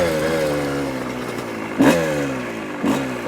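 Kawasaki KX 125 two-stroke dirt bike engine heard while riding, its pitch sliding down steadily between two sharp rev blips, close and loud with no talking.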